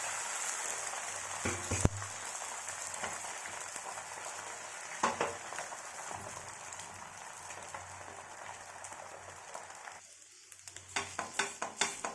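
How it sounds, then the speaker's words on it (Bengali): A two-egg omelette with onion, green chili, pepper powder and salt frying in a pan, a steady soft sizzle running throughout with a few sharper pops and stirring clatters near the end. "আর এখন ডিমের অমলেট বানাচ্ছি।"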